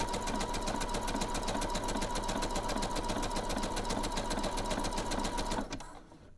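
A sewing machine stitches elastic onto a sports bra, a fast, even mechanical rattle running steadily at close range before slowing and stopping at the end.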